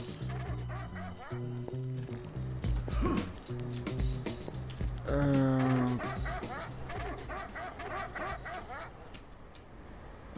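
Dogs bark in the game Kingpin: Life of Crime, a run of repeated close, loud barks and yelps in quick bursts, overlapping and continuing through the whole stretch.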